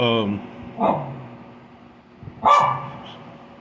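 A dog barks two or three times, close and moderately loud, with spaced single barks, and a voice is heard speaking briefly at the start.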